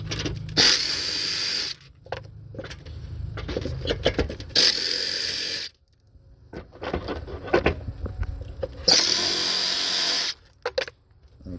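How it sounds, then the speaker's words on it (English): Power tool spinning out 10mm bolts from the starter of a 1998 Toyota Avalon, three loud bursts of whirring separated by gaps of rattling and clinking. "there are 3 10mm bolts in here, so we're going to go ahead and remove those as well"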